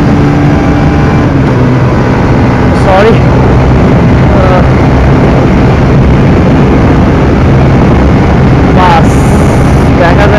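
A Bajaj Pulsar 150 motorcycle runs at speed on a road, its steady engine drone buried under loud, continuous wind rush, with a brief spoken word partway through.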